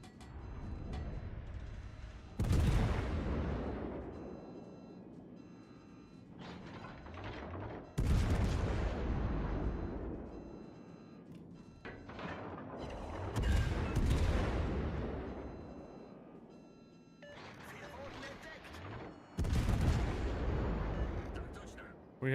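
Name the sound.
battleship guns firing on the Alabama in a naval video game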